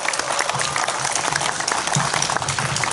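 A Korean residents' general meeting audience applauds the executive committee, dense steady clapping filling the hall for the whole stretch, loud and close, with a faint voice now and then underneath.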